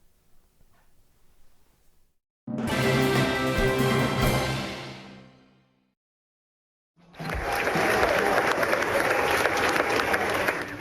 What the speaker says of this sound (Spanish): El presidente Joe Biden fue recibido con un cerrado aplauso en el Congreso de Estados Unidos